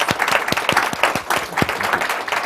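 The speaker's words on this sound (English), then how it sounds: "Let's give him a round of applause" An audience at a talk on AI and technology in the food system claps for a departing guest, the claps loud, close and distinct.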